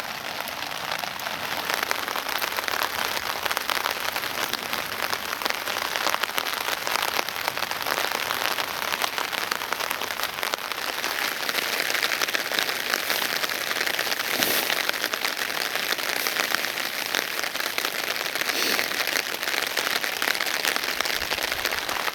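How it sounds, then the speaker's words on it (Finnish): Rain falls steadily during spring camping around Isojärvi in Finland, a dense continuous patter on surfaces close by, even and unbroken for the whole stretch with no voices. "Tuo sade sen kuvaa yltyy."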